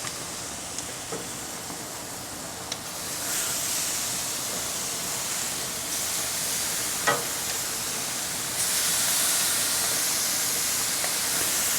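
Marinated pork tenderloins, Asian-style and keto, sizzling on a grill with a steady broad hiss that swells louder partway through, a few faint pops and clicks scattered across it, no talk.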